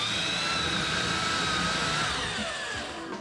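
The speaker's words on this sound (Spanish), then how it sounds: "3 cerrajeros empiezan la tarea a base de taladradora." Locksmiths bore into a door lock with a power drill, a steady, loud whining grind that holds for about three seconds and eases slightly near the end, with no voices over it.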